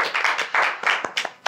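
A short burst of hand clapping from a small group, uneven and close, fading after about a second and a half.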